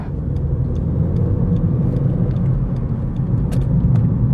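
A turbocharged car engine while driving, a steady low rumbling drone of engine and road noise heard from inside the car, continuous and even with no talking.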